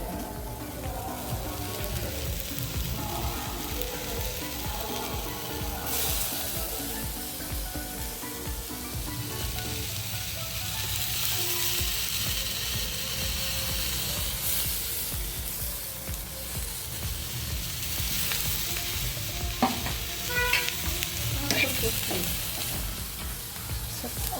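Shredded cabbage sizzles steadily in hot oil in a pan on the stove while a spoon stirs it now and then, scraping and clattering over the constant frying hiss.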